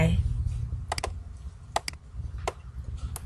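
Computer mouse clicks while working in ArcMap mapping software: several sharp, close clicks, mostly in quick pairs, spaced across the moment over a low background rumble.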